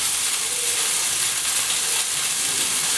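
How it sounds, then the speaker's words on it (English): Water for potatoes boils in a pot on the stove, a constant close bubbling hiss with no pauses and no talking. "you can see my water for potatoes has started boiling"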